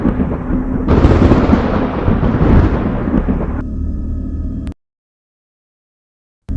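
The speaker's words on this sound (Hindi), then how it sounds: "तभी अचानक बिजली कड़कता है और थोड़ी देर बाद बंद हो जाता है।" A thunder crack sound effect in a Hindi horror story: a loud, close, sustained rumbling crash that rolls for several seconds, then cuts off abruptly into silence.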